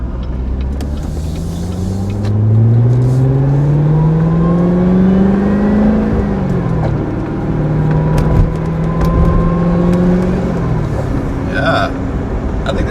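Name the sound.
car engine revving with supercharger whine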